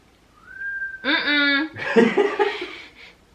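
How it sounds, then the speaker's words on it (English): A short rising whistle, then a wavering whistled tone, quickly followed by laughter, all close and fairly loud. "you start whistling, you make sounds"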